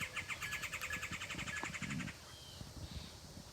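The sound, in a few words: woodpecker calling in the morning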